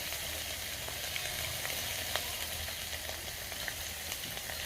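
Onion paste and raw cumin paste fry in a pan with a steady, close, bright sizzle and small crackles throughout, with no talk.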